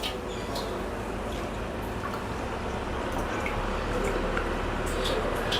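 Water is poured over washed rice in a bowl for soaking for coconut dosa, a steady close gurgling splash with small drips and crackles that continues evenly throughout.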